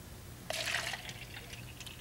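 Water poured from a small 300-milliliter container into a larger one in a measuring challenge, a short splashing pour of about half a second followed by faint trickles and drips, close and quiet with no talking.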